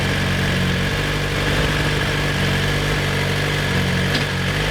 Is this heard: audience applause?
no